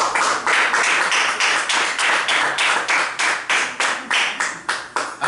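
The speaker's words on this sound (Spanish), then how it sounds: "Dale un fuerte palmas." A church congregation at a Spanish-language youth service claps hands in unison, a loud, close, regular beat of about three claps per second that continues steadily without speech.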